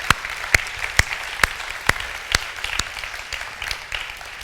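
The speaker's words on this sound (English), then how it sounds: "give Nathan a big round of applause as he comes up stage" An audience at a summer speaker series applauding as the guest speaker walks up to the stage, moderate clapping with a few loud, sharp, close claps standing out at a steady beat.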